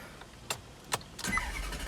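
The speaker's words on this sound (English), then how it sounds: "Let's start her up." A Maserati GranTurismo MC with very high mileage cranks with a few sharp clicks before the engine catches and settles into a close, steady idle rumble.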